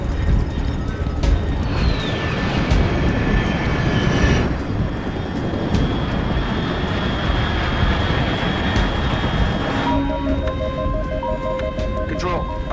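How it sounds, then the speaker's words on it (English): An aircraft drones overhead in the video game Metal Gear Solid Delta: a loud, continuous engine roar with a steady tonal whine runs the whole time, and beeping electronic tones come in near the end. "Control, unidentified aircraft detected."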